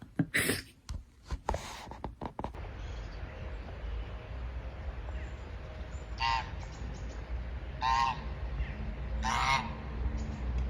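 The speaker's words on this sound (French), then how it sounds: "Il y a les petits canards par là-bas aussi." Ducks quack outdoors in a few loud, separate bursts spaced a second or two apart, following some sharp knocks and clatter at the start.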